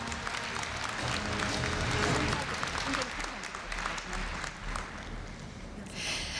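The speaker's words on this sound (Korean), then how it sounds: "네, 큰 박수 부탁드립니다." Sustained applause from a large audience at the Korea University 2015 freshman entrance ceremony, a dense, steady clatter of clapping that swells and thins slightly over several seconds without speech.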